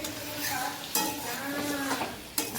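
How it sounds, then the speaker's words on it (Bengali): Mutton with potatoes sizzles in a pan while being stir-fried into kosha, with a scraping spatula stirring under the frying hiss and two sharp metal clinks against the pan. "তো এই যে মাংসটা আমাদের কষানো চলছে, মোটামুটি অনেকটাই হয়ে গেছে কষানো।"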